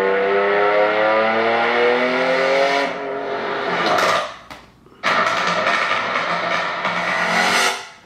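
A car with a V6 or inline-six engine revs hard and close, its burbling, rising roar filling two loud bursts separated by a brief near-silent gap.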